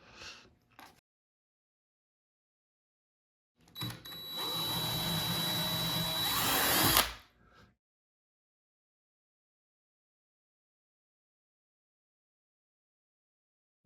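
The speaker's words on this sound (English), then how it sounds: "We have to drill a hole for this as well." A power drill bores a hole for a plastic hollow wall anchor in one close, steady whirring burst of about three seconds, with quiet stretches before and after.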